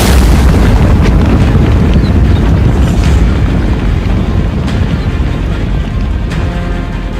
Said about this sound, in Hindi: या फिर ज़ेलेंस्की ने कर दिया लॉन्ग रेंज मिसाइल का धमाका?